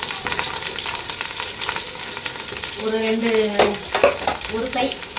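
Large onions and green chillies sizzle in a pan for chicken biryani, with steady frying hiss and scraping stir strokes, and a voice briefly audible over the cooking.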